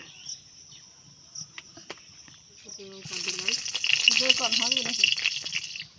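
Oil in a pan for jute leaf dal starts to sizzle midway, a loud bright hiss that rises suddenly after a quiet stretch, with a voice sounding over it.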